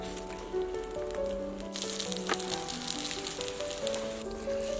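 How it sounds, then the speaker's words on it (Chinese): Chive pockets pan-frying in a little oil over medium heat give a steady, close sizzle and crackle that swells midway, with soft musical tones running underneath. "锅里面放入少许的油，再把包好的韭菜盒子放进去，用中火慢煎。"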